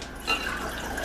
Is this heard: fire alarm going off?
no